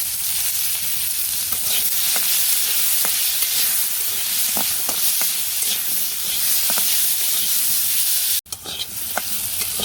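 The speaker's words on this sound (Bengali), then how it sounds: "এই যে আলু ভাজি হয়ে গেছে" Potatoes with onion, salt and turmeric sizzle in a pan while being stirred, a steady close frying hiss with scattered scraping clicks and a sharp knock near the end.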